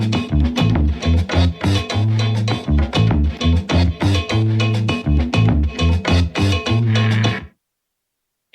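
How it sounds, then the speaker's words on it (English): A DJ's percussion loop, built around bass, thumps out a steady, repeating groove of punchy drum hits with deep tonal notes, loud and close, with no talk, before cutting off to silence. "and the percussion sounds like this"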